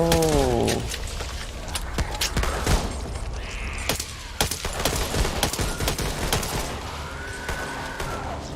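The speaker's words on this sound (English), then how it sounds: "Stop shooting teammates, Juicy." Loud, dense video game gunfire with sharp, closely spaced shots and thumps that never let up. A brief rising electronic tone is heard at the start, and there is no talking.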